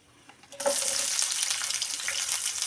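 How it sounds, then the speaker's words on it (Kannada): Chopped onions hit hot oil in a pan and break into a loud, steady sizzle that starts abruptly and holds bright and close for the rest of the moment. "ಇವಾಗ ಈರುಳ್ಳಿ ಫ್ರೈ ಮಾಡ್ತಾಯಿದ್ದೀನಿ"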